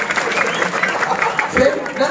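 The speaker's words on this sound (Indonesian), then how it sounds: "Tepuk tangan deh. Artinya tepuk tangan." An audience claps at a Balinese bondres comedy stage show, a dense, brisk patter of hands that runs throughout, mixed with the murmur of voices.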